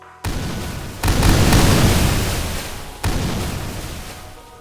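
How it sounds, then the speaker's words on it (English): Several loud, booming landmine explosions in the Roblox game Tower Defense go off one after another, each burst followed by a rumbling decay. They sound close and heavy. "The landmines even have a custom explosion."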